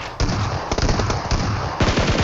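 Steady, loud automatic gunfire in a battle royale video game comes in dense rapid bursts with brief pauses, close and continuous for the whole stretch.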